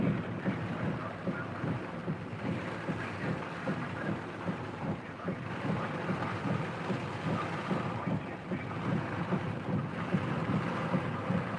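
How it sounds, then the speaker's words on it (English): Heavy rain and gusting wind batter a car with a window cracked open, a dense, continuous roar of drumming water and buffeting air close around the cabin. "Rain is dripping through the door onto my kneecap."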